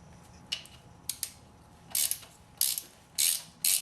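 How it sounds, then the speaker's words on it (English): 19mm ratchet wrench tightening a fitting into a Nissan SR20DET motor during a 240SX S13/S14 engine swap, giving several crisp ratcheting clicks in short uneven bursts, close and fairly quiet. "And then tighten it down with a 19mm."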